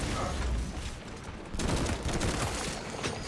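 Full-auto heavy plasma incinerator fire in a video game, a loud continuous stream of rapid bursts that thins briefly near the middle and then swells again with dense crackling blasts, with no voices.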